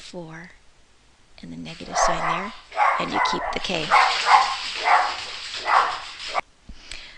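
A pet dog barks repeatedly nearby after the mail is delivered, sharp yips and woofs in an irregular burst that rises and continues for several seconds, briefly overlapping a voice explaining math.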